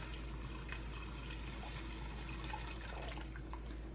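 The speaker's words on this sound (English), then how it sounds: "All right, so I am adding 8 cups of water" Steady running water pours continuously into a pot of beans, a constant splashing wash with no voices, fairly close.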